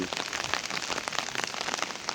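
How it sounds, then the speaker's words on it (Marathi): Heavy rain pours down steadily in foggy morning weather in Dharashiv, a dense patter of drops hitting surfaces close by with no other sounds. "प्रचंड प्रमाणावरती पाऊस तर पडतच आहे पण त्यासोबत धुकेसुद्धा पसरलेली आहे"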